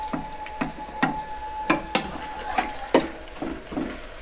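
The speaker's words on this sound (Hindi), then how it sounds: "लहसुन मिक्स करते हैं," Garlic frying with onions in a pan, a low bubbling sizzle under regular sharp clacks of a spoon stirring against the pan, close and moderately loud.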